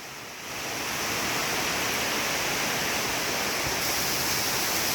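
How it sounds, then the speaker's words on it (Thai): Steady, dense hiss of rain pouring down, continuous and fairly loud after a brief quieter start, with no voices. "อาจจะฝนอย่างเดียวนะครับ"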